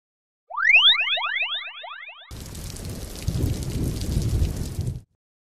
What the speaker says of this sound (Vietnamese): Ôi, nữ thần mưa, đang làm mưa to quá.